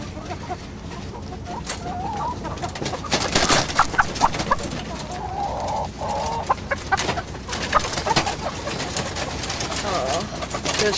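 Caged chickens cluck and coo throughout, several birds close by in a busy battery-cage enclosure, with scattered rattles and knocks and some voices mixed in.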